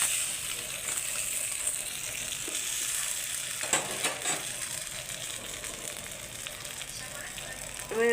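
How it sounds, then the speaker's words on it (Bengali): Katla fish heads, rubbed with salt and turmeric, fry in hot oil in a wok, giving a continuous bright sizzle with occasional crackles and stirring clatters close by. "এই যে আমার মাছটা ভাজা হয়ে গিয়েছে"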